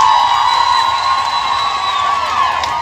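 A campaign crowd for Mike Sonko in Changamwe cheers and claps, a continuous loud roar of voices with high whistles running over it.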